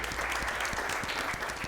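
A television studio audience on a French talk show claps in a steady, even burst, a continuous patter of many hands at moderate level with no voices over it.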